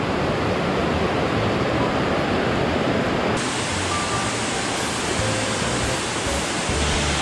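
Steady, loud roar of a waterfall in a mountain valley stream along a rugged ridge trail, a dense continuous rush of falling water with no voices.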